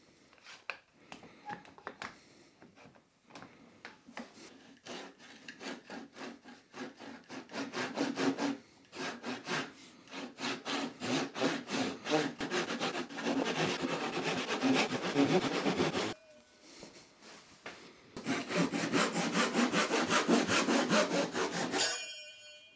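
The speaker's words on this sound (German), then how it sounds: "Den Rest mache ich dann mit der Japansäge." A Japanese pull saw rasps steadily through wood in quick back-and-forth strokes, close up, pausing briefly before a final fast run of strokes.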